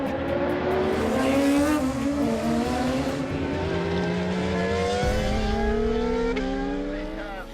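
Race car engine screaming around a circuit at a motorsport festival, loud rising howls through repeated upshifts as it passes close by, with a faint tyre squeal.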